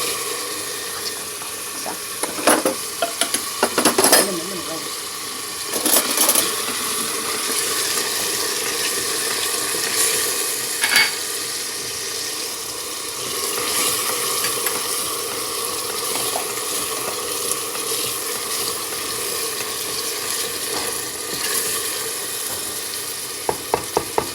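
Dried beans roast in butter in a pan, a steady soft sizzle with intermittent spoon stirring and scraping clatters throughout, no talking.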